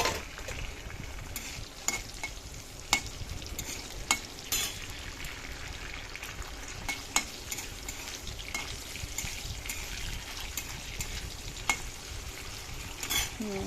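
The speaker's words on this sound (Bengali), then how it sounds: "আলুটা ভাজা হচ্ছে" Potatoes fry in a pan at home, giving a steady close sizzle with occasional sharp clicks and scrapes as they are stirred; no one talks.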